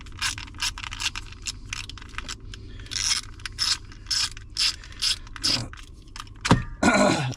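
A ratchet unthreads a part during an ignition switch replacement on a 2001 Ford Super Duty truck, clicking in repeated close, bursts of rapid pawl ticks with short pauses between, ending in a louder clatter of handling.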